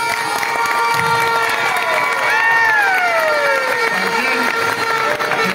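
A crowd at a departmental football championship in Yalí cheers and shouts, with whistles and siren-like gliding tones sounding over a constant loud roar and scattered clapping.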